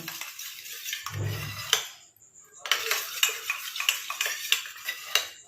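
A utensil stirs a hair product mixed with coconut oil in a bowl, giving close, rhythmic clinks and scrapes against the bowl that repeat steadily with brief pauses.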